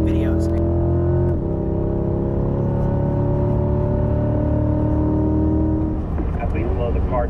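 A race car at a driving school roars close and loud with a steady, strongly pitched engine drone that holds for several seconds, then the pitch drops and shifts near the end.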